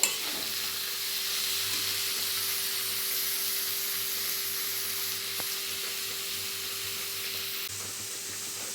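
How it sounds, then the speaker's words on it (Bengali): Chopped banana stem is sautéed with spices in a pan, giving a continuous bright sizzle and hiss with soft stirring scrapes and no voices. "এবার আমি দিয়ে দেব থোড়গুলো। এর সাথে খুব ভালোভাবে কষিয়ে নিতে হবে।"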